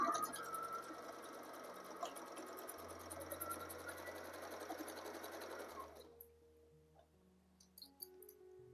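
A sewing machine stitches folded fabric for a latkan tassel, its steady mechanical whir running continuously for about six seconds before stopping, followed by quieter handling noises.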